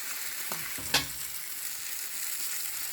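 Spices and cauliflower with turmeric frying in a pan on lowered heat, a soft continuous sizzle broken by a couple of quick stirring scrapes.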